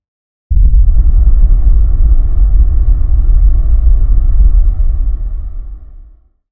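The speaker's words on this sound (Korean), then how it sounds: "방 밖에서 뭔가가 움직이기 시작한 거야. 어딘가 자동차 소리 같기도 했는데" A car-engine-like rumble comes from outside a room, used as a sound effect in a narrated horror story. The deep, loud rumble starts abruptly, holds steady for several seconds, then fades away.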